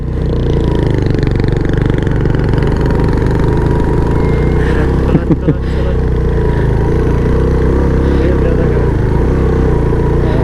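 Motorcycle engine held at full throttle while climbing a steep mountain road toward Fort Munro, a steady loud drone running throughout with brief bumps and knocks midway.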